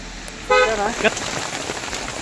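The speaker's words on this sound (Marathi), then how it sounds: "पाऊस पडायला लागला आता. हा रप्पा पडायला लागला." Rain begins pattering near Pratapgad fort, a soft steady patter with a short horn-like toot from a passing vehicle near the start.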